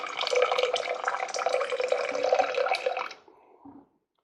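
Hydrogen peroxide solution poured slowly into a container, a steady close liquid splash for about three seconds, then a brief quieter trickle as the flow tapers off.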